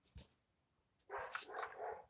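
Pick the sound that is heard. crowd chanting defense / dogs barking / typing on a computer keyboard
dogs barking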